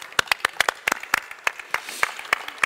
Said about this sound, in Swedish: En applåd till Clark.